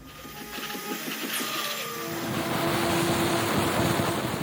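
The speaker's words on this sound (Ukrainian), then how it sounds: "Закінчили ми значить, чистку суху пилососом." A vacuum cleaner dry-cleans a dirty carpet, giving a steady, loud motor whine and rushing airflow that builds slightly louder and holds continuously, with no talking.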